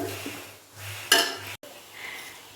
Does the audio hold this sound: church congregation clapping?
no